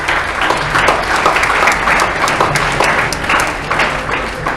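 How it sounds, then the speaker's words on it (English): A crowd at a model UN closing ceremony gives the Security Council delegates a loud, sustained round of applause, many hands clapping densely and evenly at close range without a break. "a huge round of applause rather,"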